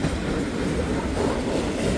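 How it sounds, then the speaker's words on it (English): A train with flat-spotted wheels and a bearing problem passes on a cold, windy morning in Hamilton, giving a loud, continuous rolling roar with rattling and rail noise throughout. "Flat spots in those wheels and a bearing issue."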